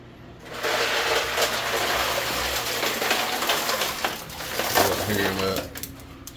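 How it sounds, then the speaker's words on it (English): Ice dumped into a tub of water for cooling tomatoes while home canning tomato juice, a sustained loud splashing, clattering wash lasting several seconds with a brief louder surge near the end. "she's dumping ice in this water over here"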